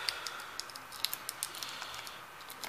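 Removing the keyboard of a Multilaser Legacy laptop, a series of light, sharp plastic clicks and taps at an irregular pace, close and fairly quiet, with no talking.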